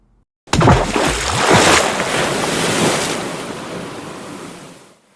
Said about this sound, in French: il y eut un rugissement de vagues furieuses, et l'océan sembla venir au-devant de lui